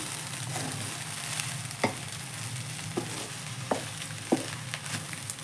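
Egg fried rice stir-frying on a high flame: a steady loud sizzle with a spatula scraping and clacking against the pan every second or so, no talking.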